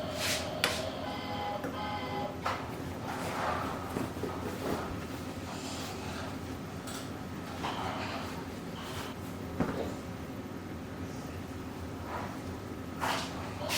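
Scissors trim away leftover minky fabric, a continuous soft snipping and rustling with repeated crisp cuts, close by under a faint constant room hum.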